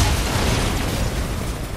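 A loud, dense burst of weapon fire and explosion from the Call of Duty Infinite Warfare game, a thick roaring blast that fills the whole brief moment with a rumbling, noisy rush.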